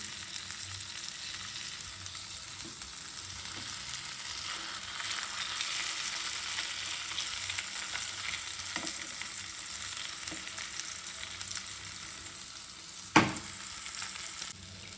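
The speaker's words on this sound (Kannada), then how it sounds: "ಒಂದು 5-10 ಮಿನಿಟ್ಸ್ ಲೋ ಫ್ಲೇಮಲ್ಲಿ ಫ್ರೈ ಮಾಡ್ಕೊಳ್ಳಿ." Bangude (mackerel) fish frying on a tawa over low flame, a continuous soft sizzle that swells slightly midway, with a few faint taps and one sharp clank near the end.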